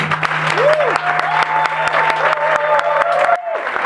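A church congregation claps steadily and densely throughout, alongside sustained organ-like tones and sung notes, before the clapping cuts off abruptly near the end.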